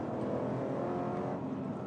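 A tuned car with intake, headers, a mild cam and a 3.5-inch exhaust making about 430 rear-wheel horsepower, its engine holding a steady, fairly even rumble with a faint throaty drone, heard alone for under two seconds.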